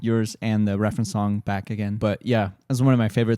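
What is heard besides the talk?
None of the usual background noises is heard.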